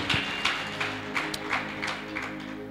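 Church congregation clapping hands in praise during a Bible marathon week service, a sparse, rhythmic run of distinct claps roughly every third of a second, moderately near, over a low steady musical hum.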